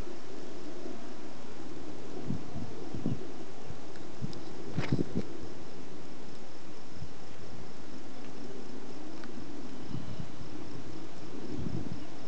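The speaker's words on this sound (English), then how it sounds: "Maybe you can hear some insects," Faint, continuous cricket chirring outdoors in fields in Lincoln, Massachusetts, with a soft rustling bed of wind and leaves and a few brief bumps.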